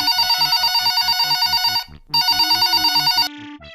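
A telephone rings loudly in rapid electronic trilling bursts, two long rings separated by a short pause, then cuts off.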